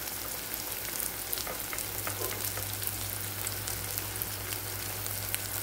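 Onions frying in a pan with ginger, garlic and turmeric, a dense, even crackling sizzle that holds steady throughout with faint stirring ticks, no speech.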